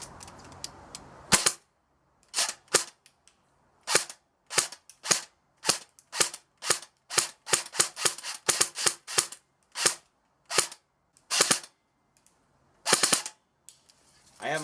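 A budget airsoft rifle, either an AK or an M4, fires a string of separate shots at a target group, each a sharp close snap with short irregular gaps and a few quick pairs, no voice over them.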